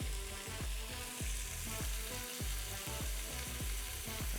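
Onions and garlic sauté in a pressure cooker, giving a constant bright sizzle broken by regular scraping strokes about every half second, close and clear with no talking.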